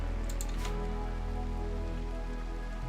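Steady rain falls in the colony-building game Rimworld, a dense, continuous patter at even loudness with a low constant hum underneath and no speech.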